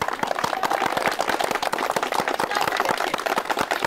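A studio audience at the Turkish cooking competition En Hamarat Benim claps for the city of Uşak, a dense, lively run of sharp hand claps that stays loud and steady throughout with no talking.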